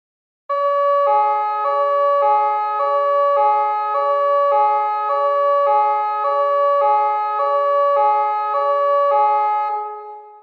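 Ambulance siren in a cartoon skit, a loud close electronic wail that repeats a steady rising-and-falling two-tone cycle for about ten seconds, alone with no voices, before cutting off abruptly.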